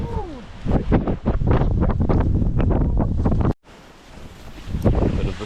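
Strong wind buffets the microphone in loud, gusty rumbles at a foggy alpine spot, briefly cutting out before the roaring gusts return.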